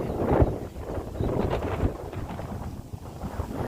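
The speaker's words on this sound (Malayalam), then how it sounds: "അടിപൊളി കാറ്റാണ് കേട്ടോ. രക്ഷയില്ല. നല്ല രസമുള്ള കാറ്റ്." Gusty wind buffets the microphone in uneven rumbling bursts, loud and close, with no one speaking.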